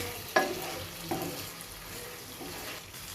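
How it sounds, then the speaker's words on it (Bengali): Pigeon meat being stirred together with spices in a hot pan for a pigeon curry, with a few distinct scraping strokes of the spoon over a steady, soft sizzle of frying. "মশলা আর মাংসটা আমি একসঙ্গে ভালোভাবে মিশিয়ে নেব।"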